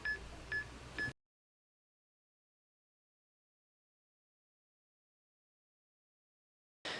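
A phone gives a short burst of beeping tones, three quick repeated beeps in about a second, then silence, with another burst starting at the very end. Overnight at Jamaica Inn in Cornwall, a reputedly haunted inn.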